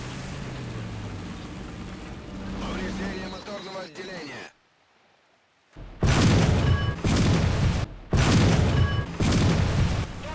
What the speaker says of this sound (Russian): И все-таки из режима прицеливания выстрел звучит громче.